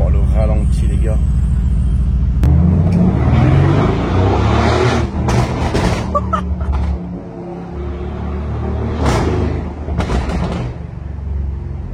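A supercar in Monaco idles with a loud, deep exhaust burble, close by and steady, with a brief rise partway through while people talk over it.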